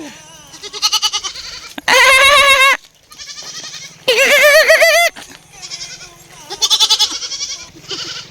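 Goats bleating loudly and close by, several long wavering cries alternating with shorter broken bleats in quick succession on a farm, with no voices over them.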